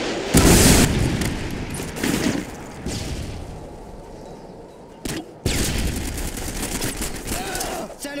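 Predator missile strike in Call of Duty Modern Warfare 2 multiplayer, loud bursts of gunfire and booming blasts with a sharp impact near the middle, rumbling battle noise throughout, with game voices over it.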